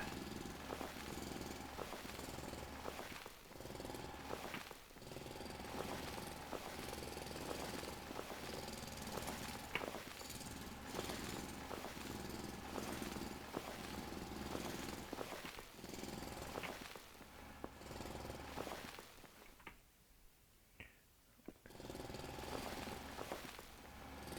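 Continuous grinding drill rumble from the Foundry video game while digging downward, steady and loud throughout with brief dips near the end.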